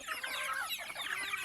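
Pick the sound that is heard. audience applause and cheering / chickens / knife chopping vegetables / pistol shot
chickens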